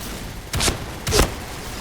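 Two loud shotgun blasts from a first-person shooter game, about half a second apart, each a sharp broadband bang with a short decay over quiet background.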